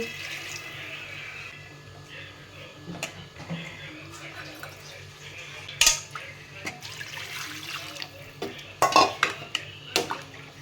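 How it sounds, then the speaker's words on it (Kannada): Water goes into a pot of mutton to boil, heard as pouring and splashing with scattered metal clinks of utensils against the pot. A person speaks now and then under the kitchen sounds. "ಈಗ ಸ್ವಲ್ಪ ನೀರು ಹಾಕಿ ಕುದಿಸ್ತೀವಿ."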